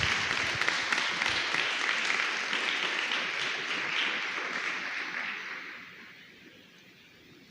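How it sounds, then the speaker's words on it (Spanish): Church congregation applauding together during a Spanish-language sermon at Vida Church, dense steady clapping filling the room and then tapering off toward the end. "¿Qué tal si usted le da fuerte aplauso al Señor?"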